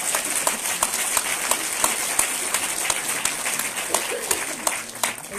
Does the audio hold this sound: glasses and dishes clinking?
no